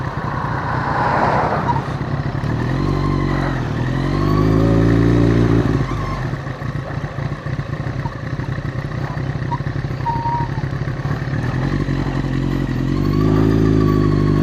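A first-generation Yamaha R6 sportbike with an Akrapovic exhaust rides along, its engine droning and revving in loud surges with gear changes and a dip in the middle. The bike is close, and the noise is continuous.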